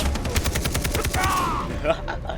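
Rapid gunfire rattles in the video game Far Cry 3, a quick burst of repeated shots in close succession followed by a short tail of game effects.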